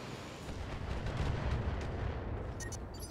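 Heavy ship weapons firing in a space combat video game, a dense continuous barrage of booming blasts rolling together, loud and close, with brief sharper crackles near the end and no talk.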